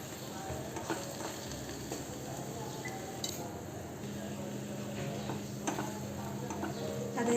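Spices for a restaurant-style cashew masala curry frying in a pan over a medium gas flame, a low steady sizzle with occasional light scrapes and ticks, close and fairly quiet, with faint voice in the background.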